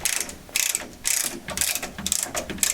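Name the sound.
Nerrad adjustable ratchet action tube cutter cutting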